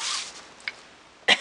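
A single close cough bursts out near the end, preceded by a soft breathy hiss and a small throat sound in an otherwise quiet room.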